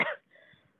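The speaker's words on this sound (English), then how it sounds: "my apologies for coughing" A person gives a single short, sharp cough, followed by a faint breath and small throat sounds.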